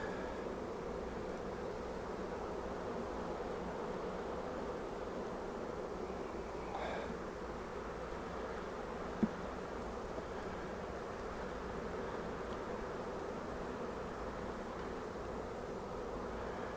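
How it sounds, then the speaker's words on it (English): A steady, low insect buzzing from many honey bees on a hive frame fills the whole stretch, constant and close, with one brief tap partway through. "Lots of bees."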